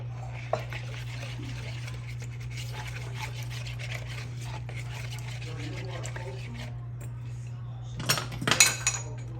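Pig feet and chickpeas being stirred in a pot, giving faint scraping and a few metallic clinks over a steady low hum, with a louder burst of clattering near the end.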